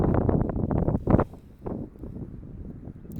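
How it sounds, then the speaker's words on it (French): Gusty wind buffets the microphone at an outdoor soccer field during a senior boys' final, a loud rumbling roar that surges and fades over a few seconds. "Le vent commence à jouer un peu d'un facteur maintenant"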